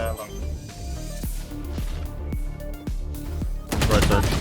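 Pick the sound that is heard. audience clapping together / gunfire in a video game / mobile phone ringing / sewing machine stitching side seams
gunfire in a video game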